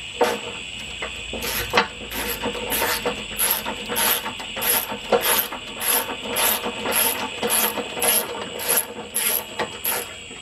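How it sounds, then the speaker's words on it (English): A ratchet driving a self-tapping screw into a fan relay on a 2005 Chrysler Town and Country, giving a steady series of close, even clicks over a faint mechanical hum, with no voices. "I'm just gonna start self-tapping that screw in there."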